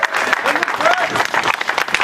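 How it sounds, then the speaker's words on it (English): Applause from the crowd at a Nationwide End the Fed rally in Philadelphia in 2012, a short dense burst of clapping with voices mixed in. "Genuine applause"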